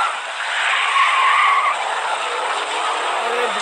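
A video-game car speeds off with a long tire skid, loud broadband screeching over steady engine roar for several seconds, no speech.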